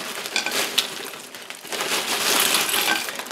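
Store-bought ice cubes pour and clatter into a container with crisp, clinking crunches in a continuous rush, close and fairly loud, while bread and butter pickles are being made.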